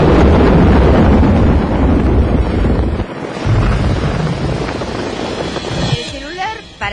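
Strong gusting wind roars against the microphone during a thunderstorm, with low rumbling throughout, then eases and falls quieter toward the end.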